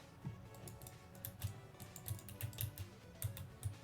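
Rapid repeated taps on a computer keyboard's shift key, a string of quiet, sharp clicks at an uneven, fast rhythm, close and alone.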